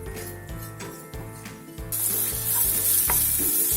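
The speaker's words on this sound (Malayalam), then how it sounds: "ഇതും കൂടെ ഒന്ന് വഴറ്റിയെടുക്കാം" Onion with ginger-garlic paste, chopped green chillies and curry leaves sautéing in a pan, rhythmic scraping stirs over a low sizzle that swells into a loud, bright hiss partway through, close up.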